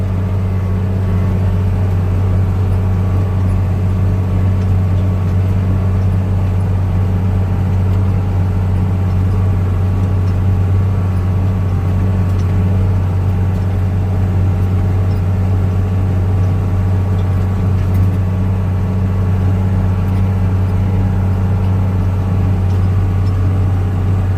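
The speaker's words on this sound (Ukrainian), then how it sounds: "Так працює у нас дискова борона." A tractor in third range, second gear, drags a disc harrow across a field at roughly 10 km/h, a steady loud low engine drone with rumbling undertone running unbroken throughout.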